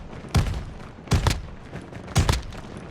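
Close-range gun in Call of Duty Mobile fires three short bursts at roughly one-second intervals, each a sharp thumping crack of two or three quick shots, loud and close, with no talking.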